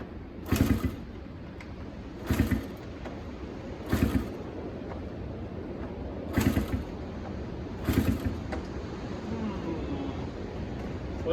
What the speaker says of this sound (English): We kick it over and see if it does anything at all.